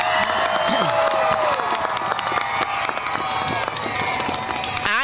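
Students at a school assembly cheer and applaud for their parents, a loud sustained roar of clapping, whoops and children's shouts from a large crowd.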